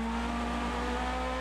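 GT race cars battle in the final laps of the 2012 Sebring 12 Hours, a loud, sustained engine drone with steady pitched tones held throughout a brief moment.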